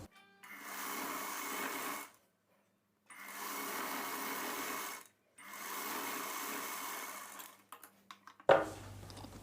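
A sewing machine stitching a blouse lining in three steady whirring runs of about two seconds each with short pauses between them, followed by a few quick clicks and a thump, close by.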